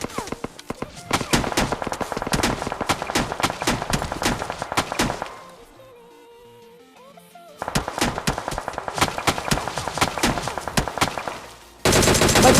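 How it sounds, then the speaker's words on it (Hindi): Non-stop gunfire in a mobile shooter game, with dense rapid shots rattling continuously, then a short lull, then sustained firing again, loud and close throughout. "बट वो नॉन स्टॉप फायरिंग कर रहे थे"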